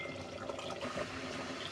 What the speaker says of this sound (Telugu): ఇప్పుడు మనము వాటర్ యాడ్ చేసుకుందాం